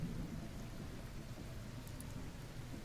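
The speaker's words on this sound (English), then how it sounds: "listen to that thunder." Rain and thunder from Baldur's Gate 3 fill the scene: a faint, steady wash of rain with a low rolling rumble underneath, continuous and distant, with no talking.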